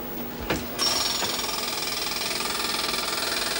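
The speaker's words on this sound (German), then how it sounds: "da steht einer und macht Löcher in die Straße. Und zwar mit mittelschwerem Gerät und ganz viele Löcher" Medium-heavy jackhammer drilling holes into the road surface of a motorway, starting after a brief knock and then pounding in a rapid, loud, steady rhythm close by.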